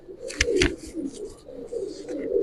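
Giribaz pigeons coo inside a loft, soft repeated throaty coos rising and falling at close range, punctuated by a couple of sharper rustles or clicks, with no talking.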